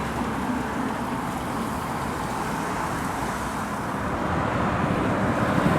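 A Volvo FH lorry rolls past at a roadside truck stop, a steady broad engine and tyre rumble that holds close and loud throughout, with no talk over it.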